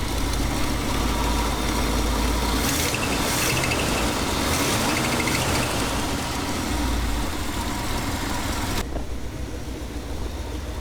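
A 1969 Ford F-350 truck engine runs at a steady idle, a loud, continuous rumble with some mechanical rattling that drops off abruptly near the end.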